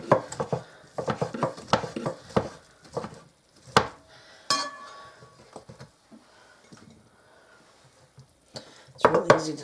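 Cooked turkey chopped on a board for a turkey and stuffing casserole: a flurry of close knife knocks and clinks, a pause with faint handling noise, then another burst of chopping.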